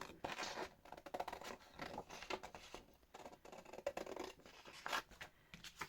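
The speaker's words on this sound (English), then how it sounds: "So I want to cut out these 2 pockets." Scissors snipping through paper to cut out two pockets from a craft kit, a run of close, quiet crisp snips and rustling scrapes with no talking.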